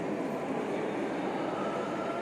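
Steady low rumble of a train at Vang Vieng railway station in Laos, broadband and continuous, with no voices present.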